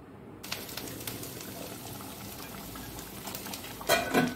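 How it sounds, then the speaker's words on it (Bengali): Mung dal boiling in a pot, a steady close bubbling and popping throughout, swelling into a louder burst of bubbles near the end. "এখন ডালটা ফুটে গেছে"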